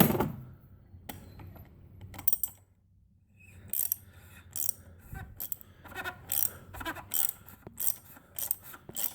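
A ratchet with a 15/16 socket loosens the oil filter housing on a Jeep Wrangler with a 3.6 L Pentastar engine, sending out close, rapid bursts of clicking that grow busier and more regular over time.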